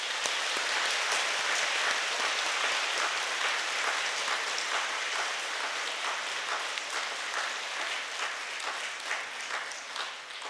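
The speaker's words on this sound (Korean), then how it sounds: "감사의 박수 봉헌합시다." A church congregation applauding together during a Mass, a dense, steady wash of many clapping hands filling a large space and holding for about ten seconds, easing off slightly toward the end.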